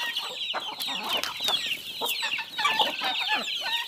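A flock of hungry farmyard chickens clucks busily while feeding on scattered corn in the morning, a dense, close chorus of overlapping clucks and short calls that continues steadily throughout.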